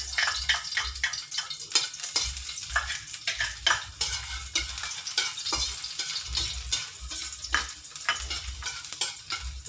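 Garlic sizzles in hot oil in a pan, with a steady frying hiss broken by repeated scraping stirs of a utensil against the pan, close and fairly loud throughout with no talking.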